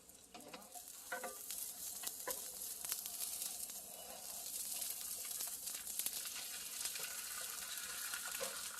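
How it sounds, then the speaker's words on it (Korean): Beaten egg frying in an oiled pan for a cheese rolled omelette, a steady close sizzle with occasional scraping stirs and light clatter. "팬에 기름을 두른 다음에 계란 정은걸 넣어줄게요"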